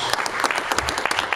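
A church congregation applauding at a youth congress: a dense, steady wash of many hands clapping, close and fairly loud, with no talking.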